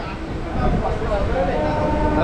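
A train on the Panskura–Digha line rumbles along in a steady, loud, continuous roar heard from inside the carriage, with faint voices underneath.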